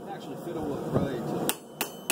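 A hammer strikes a forged steel blade to straighten it. Several sharp metallic taps ring out close by, the last three clearly spaced over a duller background of shop noise.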